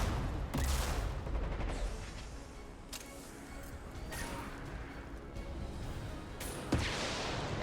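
Gunfire in the video game Mass Effect 2: scattered shots and impacts crack over a dense, steady wash of combat noise, with a sharper single burst near the end.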